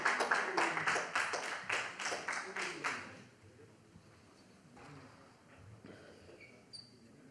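An audience at a boxing weigh-in claps in a brief burst of rhythmic applause that fades after a few seconds, leaving quiet room noise and faint scattered taps.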